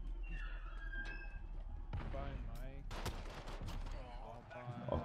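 Gunfire in the Gulag of the video game Call of Duty: Warzone, with sharp repeated shots and bursts in a close fight, over a steady game background.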